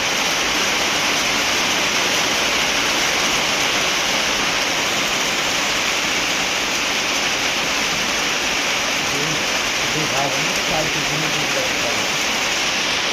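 Steady rain falls after a long dry spell, a dense, even hiss of drops on surfaces continuing without pause, with faint voices briefly audible underneath.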